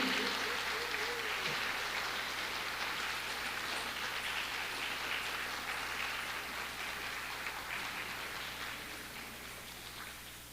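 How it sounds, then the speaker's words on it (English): Sustained audience applause for an orchestra at the close of an arangetram dance recital, a dense steady clapping that fills the hall and slowly fades over about ten seconds. "give a big, big round of applause for our incredible orchestra today"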